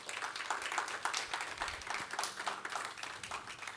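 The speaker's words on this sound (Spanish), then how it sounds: "Den un fuerte aplauso a Cristo." A church congregation claps for Christ at the close of a New Year 2022 sermon, a steady wash of moderate applause lasting the whole stretch without a voice over it.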